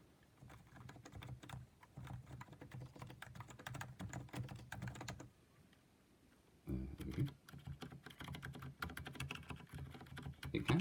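Steady typing on a Realforce keyboard with some keys damped by silencing rings, close and fairly quiet, a continuous patter of soft keystrokes with a brief pause midway.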